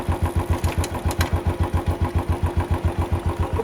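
A motorcycle engine runs with a steady, pulsing idle-like throb while the rider shifts gears back down from third to second and toward neutral, the rhythmic chug close and continuous with no talking.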